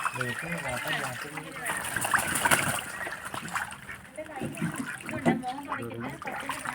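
A duck being bathed in water at midday sets off irregular splashes and sloshing, heard under almost continuous talking from people nearby.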